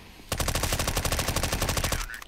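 A rapid burst of automatic gunfire in a video game, about twenty evenly spaced loud shots firing back to back, then cutting off abruptly.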